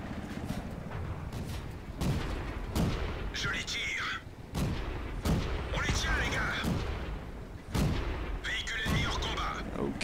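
Tank cannon shots in the World of Tanks video game, several booming reports spaced a few seconds apart over continuous game rumble and mechanical noise.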